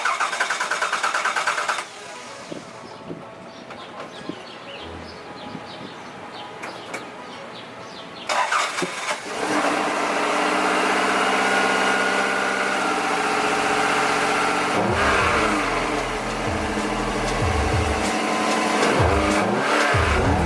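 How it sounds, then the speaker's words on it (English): Quiet outdoors with faint birds, then a Toyota MR2 engine cranks and catches, settling into a steady, close idle that runs to the end. "So that's what the MR2 sounds like."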